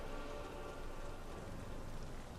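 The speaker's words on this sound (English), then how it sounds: "I think it's because it's raining, actually." Steady, dense rain hisses evenly throughout in the video game Clive Barker's Jericho, with a constant patter of drops and no voices.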